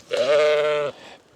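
A Katahdin hair sheep on a farm gives one loud, close, wavering bleat lasting almost a second, alone with no talking.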